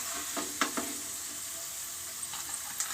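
Bitter gourd (karela) pieces fry in hot oil with a constant sizzle, broken by a few soft clinks and scrapes of a utensil moving them.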